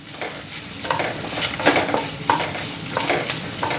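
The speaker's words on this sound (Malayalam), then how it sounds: "ഒന്ന് ബ്രൗൺ കളർ ആവുന്ന വരെ നമുക്കൊന്ന് ഇളക്കി എടുക്കാം." Grated coconut pieces stirred and fried in hot ghee until browning, a steady close sizzle with repeated scraping strokes of the spoon against the pan, no voices.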